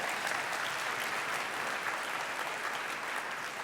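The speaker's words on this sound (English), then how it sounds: "Please give a round of applause to that." An audience at a business networking event in Chennai giving a round of applause, an even, sustained wash of many hands clapping, fairly distant and steady.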